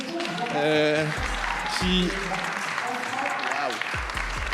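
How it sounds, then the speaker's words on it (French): An audience applauds at a media cooperative launch event, a broad wash of clapping from the room mixed with tonal voices or music over the top. "merci, on peut les applaudir, je pense"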